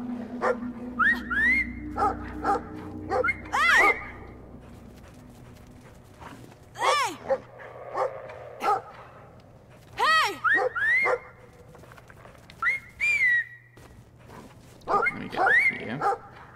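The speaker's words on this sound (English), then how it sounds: "Oh no, it's an angry dog." An angry dog in the video game Brothers barks and whines several times in short bursts over a low, steady background hum. Someone talks now and then between the barks.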